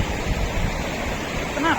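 Flowing river water in Rishikesh, a steady broadband rush that stays constant throughout, with a brief voice-like chirp near the end.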